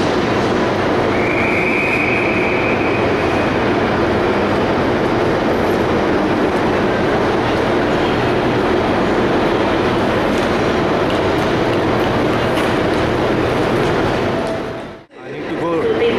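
Trains rumble and hum loudly and continuously inside London's Liverpool Street railway station, with a faint squeal early on, before the sound drops away abruptly near the end.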